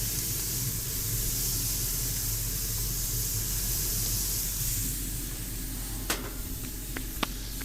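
Steady, loud sizzling hiss of burger patties cooking on a hot griddle, continuous throughout, with a couple of sharp clicks near the end.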